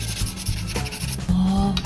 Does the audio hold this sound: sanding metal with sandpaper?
yes